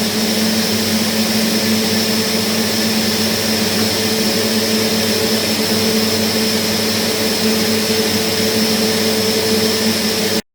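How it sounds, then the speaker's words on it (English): A vacuum cleaner runs steadily and loudly nearby, a constant whining roar with no pauses. "Okay, I'll turn the vacuum cleaner, that's the noisy thing."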